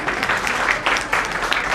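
Warm audience applause at a music evening after a song, many hands clapping together in a continuous, moderately loud burst.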